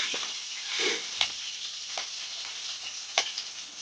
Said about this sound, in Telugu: ఉల్లిపాయలు గట్ట వేసుకొని కొంచెం బాగా మగ్గినంత వరకు వేపుకోవాలి కొంచెం ఎర్రగా వచ్చినంత వరకు వేపుకోవాలి